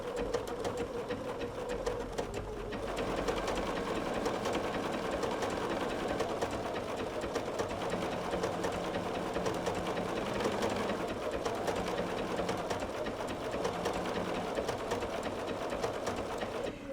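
A sewing machine runs steadily, stitching a blanket stitch along the edge of a quilt, with a continuous mechanical hum and rapid needle chatter close by and no voices.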